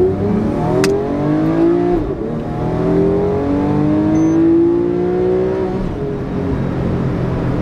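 A Porsche 911 997 GTS engine revs and sweeps up and down in pitch, a deep raspy growl rising and falling close by.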